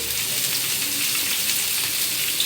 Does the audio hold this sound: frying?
yes